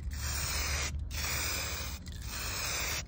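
Spray paint hisses onto a car panel during a touch-up, a loud steady spray in long passes with two short pauses between strokes; no talk.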